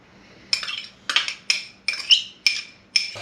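A utensil scrapes and clinks in a bowl of pico de gallo with lime juice and cilantro, six or seven sharp, evenly spaced strokes of a rough stir, close and clear with no talk.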